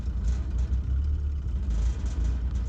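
Engine running on sunflower cooking oil instead of diesel, a deep low rumbling idle that hunts, swelling and dipping unevenly, heard close with no talk.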